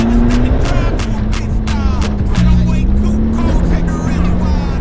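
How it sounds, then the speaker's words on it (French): A Peugeot 205 engine drone resonates through the cabin with windows open, a low hum holding constant with loud road and wind rush throughout, and voices occasionally rise over it. "on entend le moteur qui résonne dans toute la caisse"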